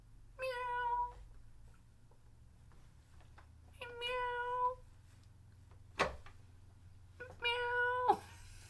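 A human voice imitates a cat's meow three times, spaced several seconds apart. Each meow is short and whiny, moderately close, with no other talk.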